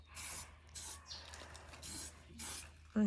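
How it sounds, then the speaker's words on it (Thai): Anti-rust spray paint hisses from an aerosol can in short bursts outdoors in hot sun, about five separate sprays with quiet gaps between. "อันนี้เป็นสี เราเคลือบสีสเปรย์กันสนิมก่อนนะคะ"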